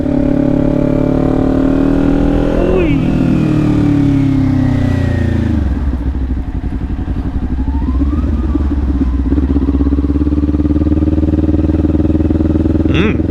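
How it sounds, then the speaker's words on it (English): A Ninja motorcycle rides through a city at night, its engine droning loud and close with rising and falling revs as it shifts and accelerates, wind rushing over it, while a rider talks. "we're back on the Ninja, and we're here to just ride at night"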